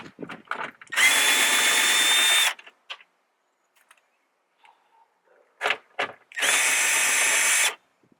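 A power drill fitted with a 10 mm deep socket spins out tail light bolts on a 2019-2021 Toyota RAV4. It makes two loud, steady whirring bursts of about one to one and a half seconds each, separated by a quiet gap with faint handling clicks.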